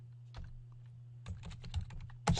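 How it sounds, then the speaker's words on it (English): Fingers tap out a command on a computer keyboard in irregular clusters of clicky keystrokes, close and fairly quiet, against a low steady hum. "Let me just put this on the side here and type it right here."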